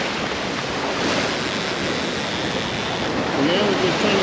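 Ocean waves surge and wash continuously at night on a red drum fishing trip, loud and steady with heavy wind rumble and no break in the surf.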